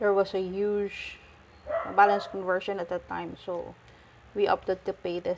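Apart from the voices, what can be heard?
No distinct noise like a dog, phone or traffic.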